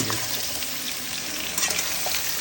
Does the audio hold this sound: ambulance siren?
no